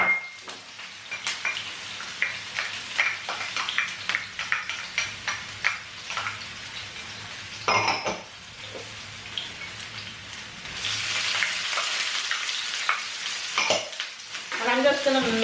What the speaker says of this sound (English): I'm just going to throw all my seasoning in there just to get the flavor into the oil